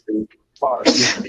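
One sharp person's sneeze, close and loud, comes right after a brief vocal intake of breath, followed by a short hiss as it fades.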